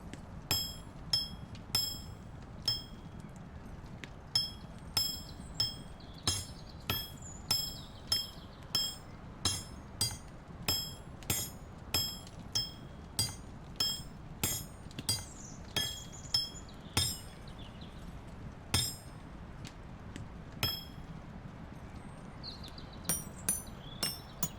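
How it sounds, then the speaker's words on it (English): Blades being hammered out at a forge in a video game: a steady series of sharp metallic clinks, mostly regular with occasional quicker doubles, ringing clearly over a low background rumble throughout. "Hammering out the blades."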